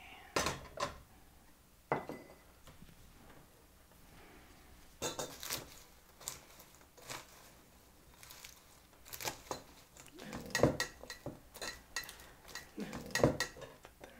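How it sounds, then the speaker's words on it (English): A spoon stirs a caramel mixture through popcorn in a bowl, giving irregular scraping clatters and soft crunchy rustles that come in bursts, fairly close and moderately quiet. "I'm going to stir it with my spoon until all of the popcorn is well coated"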